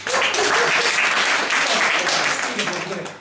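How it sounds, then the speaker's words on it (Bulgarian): A crowd of women in a concert audience clap together in a dense, steady burst of applause that stays loud for about three seconds and then thins slightly at the end. "Сега първо жените. Ще пляскат да не кажат, че ги дискриминират."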